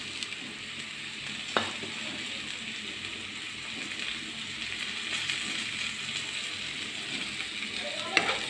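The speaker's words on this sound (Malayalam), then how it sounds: "സവോള മൊരിഞ്ഞുകൊണ്ടിരിക്കണു." Sliced onions and chopped curry leaves fry in a pan with a steady, soft sizzle throughout, broken by a couple of faint stirring clinks.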